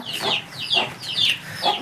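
A thirteen-month-old fighting rooster kept for breeding clucks close by in four short, evenly spaced calls, loud and clear with no talk over it.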